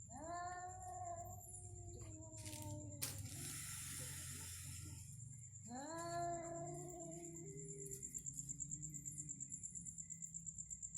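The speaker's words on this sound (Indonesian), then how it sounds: "suara kucing unik ya di sini ya" A cat lets out a string of odd, warbling meows with sliding pitch, a couple of calls in the first seconds and another near the middle, over a steady high electronic whine and low background hum.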